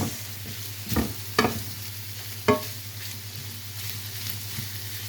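Potatoes sautéed with onion in a pan, giving a low steady sizzle under a constant hum, with three louder scraping knocks from the spatula spread over the first half, close by, no talking.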